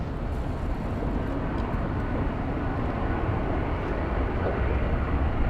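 A United Airlines airliner at Los Angeles International Airport produces a steady, loud, broadband jet roar that holds evenly for several seconds, with no voices heard over it.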